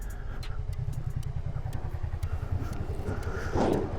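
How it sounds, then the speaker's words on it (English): A 2003 Suzuki SV 650 motorcycle engine idles nearby with a fast, even chugging pulse, a brief louder rattle near the end. "There she is, idling nicely."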